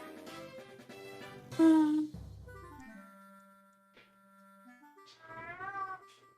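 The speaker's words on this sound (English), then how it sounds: "It's just meow, meow, meow, meow." A cat meows repeatedly and insistently, with several drawn-out, wavering cries and one loud yowl, sounding close and layered over faint background game music.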